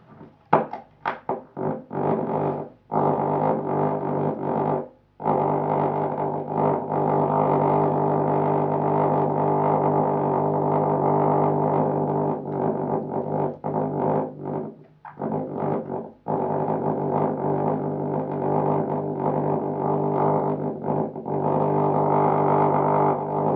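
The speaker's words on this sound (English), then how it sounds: "as I bring the magnet into it, you can hear it hum" A nail hums from a magnet's field, amplified against wood, giving a steady, loud, buzzing drone that runs almost unbroken with a few brief dropouts and knocks.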